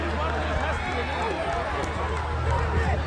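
A crowd at the Valvai summer festival in London applauds team UKFC as they receive a challenge cup and prize money. The clapping is a steady, even roar, and a voice talks over it.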